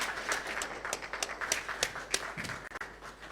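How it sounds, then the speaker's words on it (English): Scattered, moderately faint applause from a conference audience greeting the President of Ghana, with distinct individual claps standing out in an uneven rhythm. "A huge round of applause, ladies and gentlemen, for His Excellency, the President of the Republic of Ghana."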